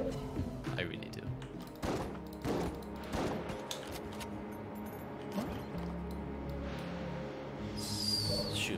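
Video game gunfire from Enter the Gungeon pops and thuds in scattered bursts over game music, with a voice talking throughout.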